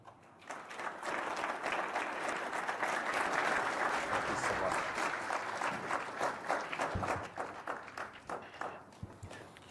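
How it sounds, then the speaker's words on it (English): Warm audience applause after a speech at the Davos forum, a dense sustained wash of many hands clapping that swells, holds steady, then thins toward the end. "you also heard a warm applause"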